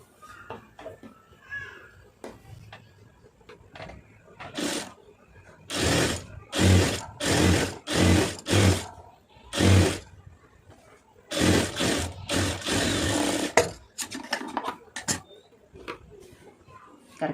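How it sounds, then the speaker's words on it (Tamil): A sewing machine runs in short, rapid bursts to stitch a narrow folded hem on cloth, with pauses between runs and a person speaking quietly in the gaps. "கீழே சும்மா சன்னமாக மடக்கி அடிச்சுக்கிறோங்க"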